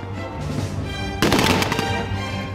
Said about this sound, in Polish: Grzmiały armaty i palby karabinowe.